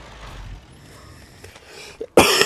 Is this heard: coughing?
yes